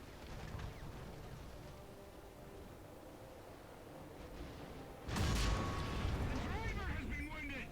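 A tank shell glances off the thick armor of a Panzer 4/70 in War Thunder's ground battles, a sudden loud metallic crash and boom over a rumbling engine and battle noise, followed by ringing debris-like tails.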